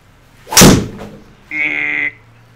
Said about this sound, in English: now Danny's gonna hit a draw on this shot, or try to anyways